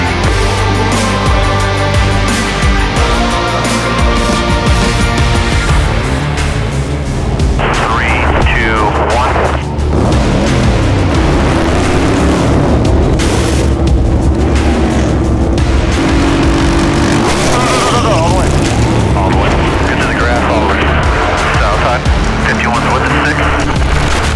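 NASCAR race cars roar past at Talladega in a dense, continuous wall of engine noise, with tire squeal and crowd and announcer voices blending in, loud and unbroken throughout.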